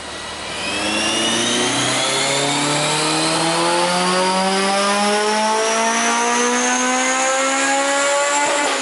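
A supercharged Honda S2000 engine revs hard on a dyno, its loud steady wail climbing smoothly in pitch for several seconds with the supercharger whine on top, close and alone.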